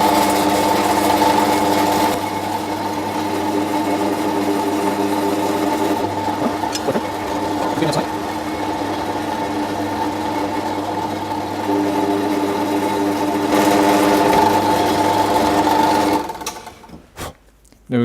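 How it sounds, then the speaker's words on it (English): A drill bores holes through knife handle scales, running with a steady high whine for several seconds, easing briefly, then spinning up again before winding down at the end. "So let's go and drill these 2."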